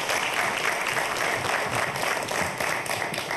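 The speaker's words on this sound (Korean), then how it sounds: "박수로 맞이해볼까요?" A studio audience applauds to welcome Magic Echo CEO Choi Hyung-wook before his talk on the Internet of Things, with steady, full clapping throughout.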